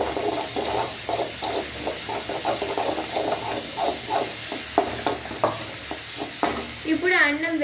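Curry sizzling in a pan while being stirred, with steady frying hiss and repeated scraping strokes of a spoon against the pan, close and fairly loud throughout.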